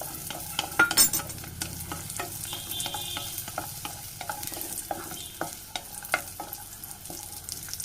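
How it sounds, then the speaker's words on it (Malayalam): Raisins and cashews roast in ghee in a kadai, a steady close sizzle with repeated scraping stirs and a few sharper clinks, with no talking. "ഇനി ഇതിലേക്ക് നമുക്ക് കുറച്ച് മുന്തിരിയും കൂടിയും ചേർത്ത് കൊടുത്ത് റോസ്റ്റ് ചെയ്തെടുക്കാം"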